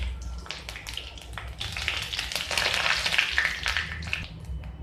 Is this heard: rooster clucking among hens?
no